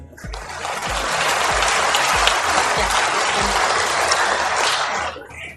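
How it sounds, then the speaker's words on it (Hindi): A large crowd claps loudly at a political event in Rajasthan where the chief minister, Ashok Gehlot, announces new districts. The applause is a steady, dense roar lasting about five seconds, then cuts off. "एक बार फिर जोरदार तालियों से"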